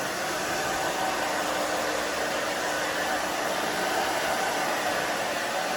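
A hair dryer roars in a steady, close, even blow, drying hair without letup and with no talking over it.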